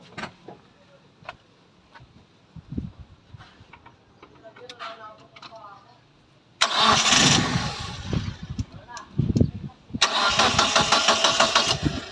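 A first-generation Mazda 323 with a hard-starting fault cranks with quiet clicks, then the engine catches loudly, sputters and roars up, dies briefly, and fires again, close up, with voices talking in the background.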